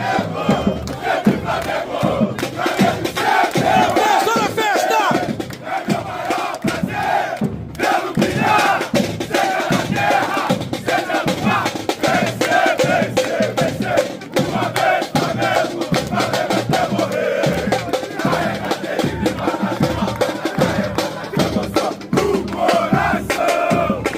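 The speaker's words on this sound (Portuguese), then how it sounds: "você vai assistir agora a festa da torcida do Flamengo lá na Gávea ontem" Flamengo supporters chant loudly together at a celebration at Gávea, a dense rhythmic crowd roar with pulsing beats running continuously throughout.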